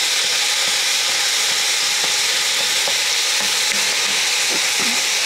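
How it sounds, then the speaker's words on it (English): Continuous loud sizzling and hissing of hamburger meat frying in a pan, with faint scraping as it is broken up and stirred, close and steady throughout. "I'm gonna start with putting my hamburger meat in here, just kind of"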